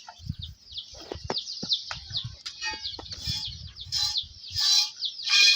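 Chickens cluck and squawk repeatedly with overlapping bird calls, growing louder and busier toward the end, with low thumps underneath.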